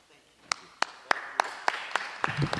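A few sparse, separate claps at a Los Angeles city commission hearing for visiting City Council President Herb Wesson, about seven evenly spaced sharp hand claps from a small group, fairly close, with low room murmur and no sustained ovation.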